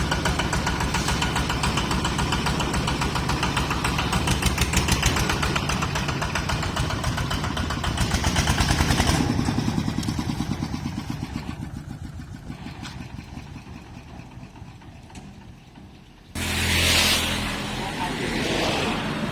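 A green Thai i-taen farm vehicle from a Buriram workshop runs on a test drive, its engine chugging loud and close with a rough, knocking beat, dipping briefly before revving back up near the end.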